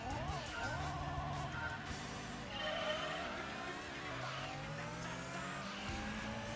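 An Audi Quattro in the Gran Turismo 2 racing game revs hard through its gears, its engine note rising and falling with tire squeal through corners, under a speaking voice.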